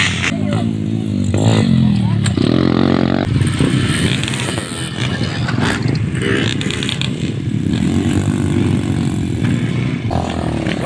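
Trail motorcycles warming up before a short motocross trail race, engines buzzing and revving loudly nearby with shifting pitch, while a voice talks over the noise.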